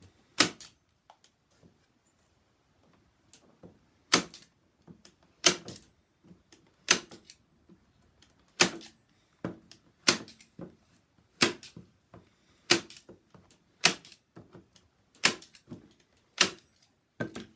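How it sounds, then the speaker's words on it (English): Stapling a paper sheet onto the back of a cardboard box for a jack-o'-lantern decoration: a dozen sharp, close staple clacks arrive at irregular intervals, each with small handling rustles between, and no talking. "I'm going to staple it on here because I figured that was the easiest way to do it."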